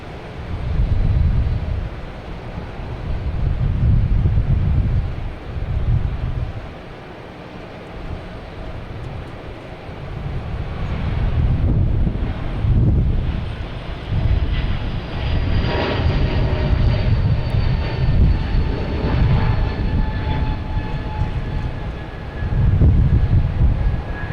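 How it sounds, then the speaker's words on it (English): A Delta Airbus A220 airliner at Boston Logan gives off a strong, swelling jet engine roar that comes and goes in waves. A faint rising whine runs underneath it, with no voices. "Okay, we got Delta Flight 1677 heading to Austin"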